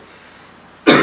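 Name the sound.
cough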